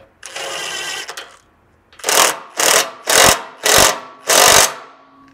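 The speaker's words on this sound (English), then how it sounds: "you can go ahead and install your 3/8 self-tapping bolt supplied with the bumper" A power tool drives a 3/8 self-tapping bolt into a Lexus GX470 frame for a rear bumper install: one long whirring run, then five short loud bursts in quick succession, close up.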